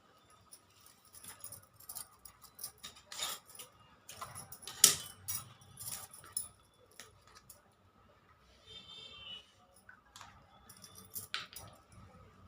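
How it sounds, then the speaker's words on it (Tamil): Plastic craft wire being snipped with scissors while weaving a small basket, a run of crisp close cuts and clicks with short pauses between them. "இப்போ இந்த இது இந்த ஒயரையும் நம்ம கட் பண்ணிடலாம்"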